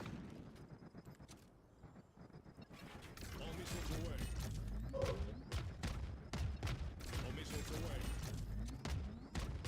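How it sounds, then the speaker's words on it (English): Rapid volleys of missile launches and explosions in a video game crackle and thud in dense bursts, growing louder after the first few seconds, with a voice talking over the barrage. "All missiles away."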